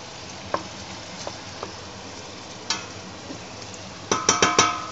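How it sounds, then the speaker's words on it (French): Beef pieces for carbonnade searing in a hot pan, a steady close sizzle with scattered pops and then a quick run of sharp crackles near the end, no voices. "les nouveaux que je suis en train de saisir"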